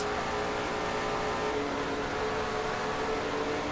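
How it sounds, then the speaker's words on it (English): Onboard engine drone of a stock car in a sim racing game (NNSCRA Castrol GTX Cup, Gelish 400), steady loud sustained roar at speed running mid-pack, with no talk. "On board Levi McIntyre's car running in 20th position at the moment"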